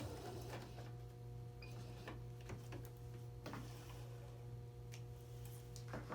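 A sewing machine back stitches along the edge of fabric for a small fabric bin, a faint, steady hum with soft ticking clicks and light taps throughout, close and without voices.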